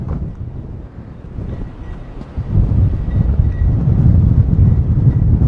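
Strong outdoor wind buffets the microphone in a continuous low roar that swells louder partway through, with no voices heard.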